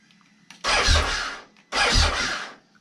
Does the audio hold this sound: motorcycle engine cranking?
yes